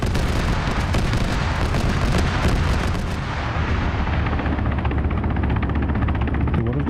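A video-game helicopter thumps loudly with rapid rotor chop, mixed with dense booming gunfire and explosions in a noisy battle scene.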